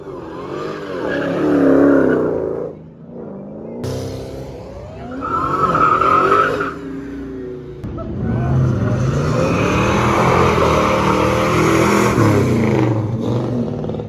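Lamborghini Aventador SVJ driving, its engine loud and close with rising and falling revs, a couple of swells in pitch and a hard sustained acceleration in the second half, continuous throughout.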